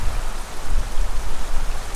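Wind gusts across a Colorado trout stream while someone is fly fishing for Rio Grande cutthroat, making a steady, close, blustery rush with heavy low buffeting and no voices.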